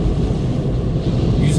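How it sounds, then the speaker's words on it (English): Strong headwind buffeting a Volkswagen e-Up climbing a hill in winter, a dense low roar of wind and road noise heard from inside the cabin, steady and loud throughout. "You can hear the wind. And this is one serious headwind I'm in."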